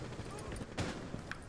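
Faint, muffled gunfire aimed at the player in Rainbow Six, a few distant shots under a steady wash of game noise.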